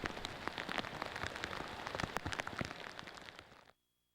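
Heavy rain pours on the cabins along a fjord shore. The thick, crackling patter stays steady and close, then stops abruptly near the end.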